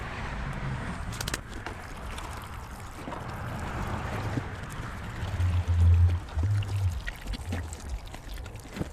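Water pours steadily into plastic milk jugs filled with potting mix, a close, continuous splashing trickle that swells louder toward the end.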